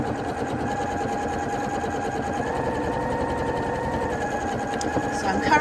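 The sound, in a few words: sewing machine stitching the edge of a fabric crown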